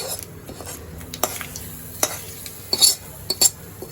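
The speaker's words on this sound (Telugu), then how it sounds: "పోపు వేగిందండి, స్టవ్ బంద్ చేసి ఇలా వేసేద్దాం" Hot tempering of curry leaves and asafoetida being poured into betel leaf pickle, giving a soft continuous sizzle with a few sharp clinks and scrapes of a spoon against the pan, close and alone.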